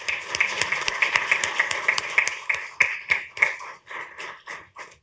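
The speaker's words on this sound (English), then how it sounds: "Give them a big round of applause." Applause in a county commissioners' meeting room, a modest group clapping in a brisk, uneven rhythm that thins out and tapers to a few scattered claps toward the end.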